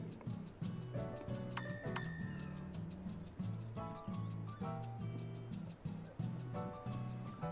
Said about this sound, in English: Oh, summoning bell.